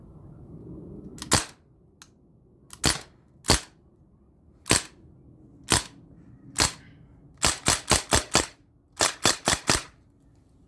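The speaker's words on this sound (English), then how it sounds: "We're going to step back to 10 yards and go semi-auto with the A4P." An A4P rifle fires semi-automatic shots at a target 10 yards away, about a dozen sharp, loud cracks, first spaced out singly and then in quick clusters of three and four, with near silence between them.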